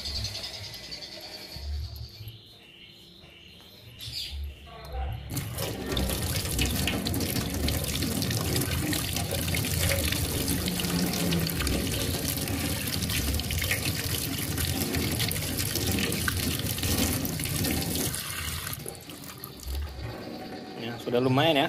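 Water gushes steadily from a tap, splashing over a cheap G-Shock-style watch in a sink for a long stretch after a few quieter handling sounds, with a voice speaking briefly over it.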